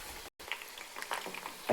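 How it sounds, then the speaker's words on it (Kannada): Rosemary and curry leaves fry in coconut oil, a faint bubbling sizzle with small pops and crackles close by, briefly cutting out once. "ರೋಸ್ಮೆರಿ ಮತ್ತು ಕರಿಬೇವಿನ ಸೊಪ್ಪು ಸ್ವಲ್ಪ ಚೆನ್ನಾಗಿ ಫ್ರೈ ಆಗಲಿ."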